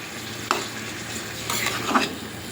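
Boiled papaya stirred with turmeric in a kadai for a papaya, potato and prawn curry, with a soft steady sizzle and two distinct spatula scrapes close by.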